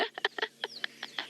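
A hadeda ibis in South Africa gives a series of short, harsh honking calls, about eight quick bursts in an irregular rhythm, fairly faint and alone without talk.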